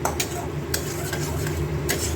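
Masala spices frying in oil in a pan over a low gas flame, with a steady soft sizzle and occasional spoon scrapes and stirring clinks against the pan.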